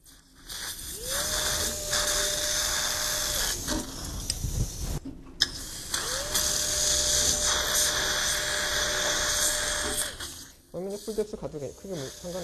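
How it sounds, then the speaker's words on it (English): A small high-speed dental implant drill whines in two long steady runs into jawbone with a short pause between, a voice speaking briefly at the end. "Drilling should be done on the stopper area."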